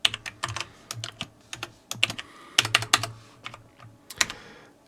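Someone types code on a computer keyboard, with quick irregular bursts of crisp key clicks and short pauses between them, close and fairly quiet.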